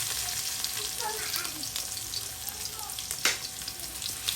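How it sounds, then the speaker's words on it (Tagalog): Garlic fries in a hot pan for tofu sisig, a steady close sizzle throughout with light stirring and a brief clatter near the end, faint voices underneath. "So ilagay na natin yung bawang kasi mainit na."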